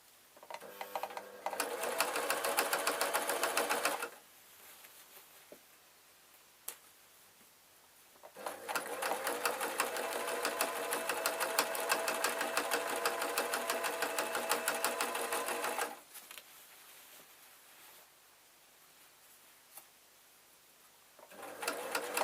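A sewing machine stitches an adult Scottish kilt in two long, loud bursts of rapid running, with quieter pauses and small handling noises between them.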